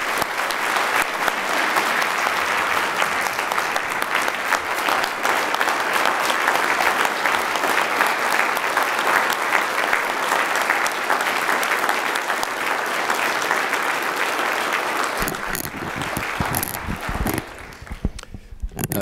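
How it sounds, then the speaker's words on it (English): Sustained loud applause from an audience at a law school investiture ceremony, welcoming a new dean and president, steady dense clapping for about fifteen seconds before thinning out and fading near the end. "would you please join me with your applause in welcoming Dean and President Michael F. Barry to the South Texas College of Law Houston family"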